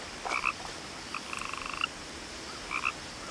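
A frog in the video game What Remains of Edith Finch croaks in short bursts, one quick call, then a longer rattling trill, then another brief croak, clear against soft ambient game sound with no speech.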